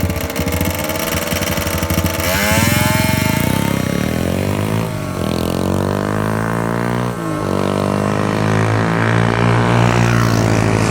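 Two small motorcycles race side by side, a Lifan 175cc with a manual gearbox against a 50cc variator Gilera, engines loud and close, revving and climbing through repeated rising whines with gear-change dips.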